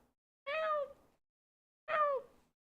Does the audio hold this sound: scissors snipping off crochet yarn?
no